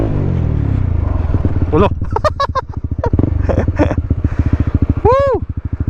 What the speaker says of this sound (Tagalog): Ingay ng motor natin, guys.